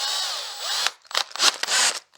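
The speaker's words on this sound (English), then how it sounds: "actually would prefer to do it by hand with my power drill" Handheld power drill with a small bit drilling a hole: a steady whirring spin-up, a short pause, then several loud, gritty bursts as the bit bites into the material, close by with no talking.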